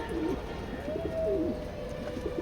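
A male racing pigeon coos in a loft, giving a few soft, wavering coo phrases in quick succession, close and moderately loud.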